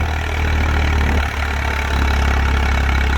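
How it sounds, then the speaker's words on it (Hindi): A 42 HP tractor engine labours in third gear while pulling a 14-disc harrow, a loud, steady low rumble up close with a brief dip in the middle. "ये देखो लो के तीसरे गियर में चल रहा है भाइयों ट्रैक्टर।"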